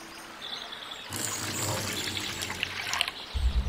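Water from a cup pours and trickles in the Portal of Evil: Stolen Runes game, a bright, splashing stream that starts suddenly after a quiet moment and runs steadily, ending with a low thud.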